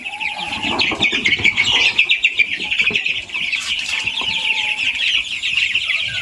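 Tiger chickens cluck and chirp close by in a busy poultry yard, steady and overlapping for several seconds, with some rustling and an occasional brief wing flap.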